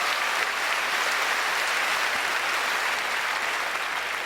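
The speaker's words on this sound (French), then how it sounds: "On peut leur donner une bonne main d'applaudissement encore une fois." A crowd at Rachid Badouri's 2009 comedy gala gives a big, continuous round of applause, a thick wash of clapping that stays loud and unbroken from start to finish.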